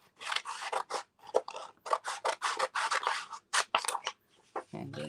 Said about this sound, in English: I'm going to take the scissors and trim the end.